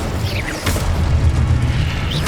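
Incendio fire spell cast in the Hogwarts Legacy video game, a short booming burst of flame with a whooshing rumble, loud and close, alone without speech.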